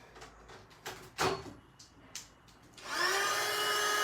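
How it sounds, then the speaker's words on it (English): A heat gun drying a craft wall-frame name plate switches on partway through and settles into a steady, loud blowing roar, after a few scattered handling knocks and clatters. "here I am using my heat gun"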